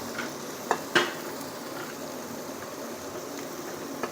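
Tomatoes fried in oil with carrots, potatoes, capsicum and flat beans being added for masale bhat give a steady sizzle, broken by two brief clinks of a spoon against the pan near the start.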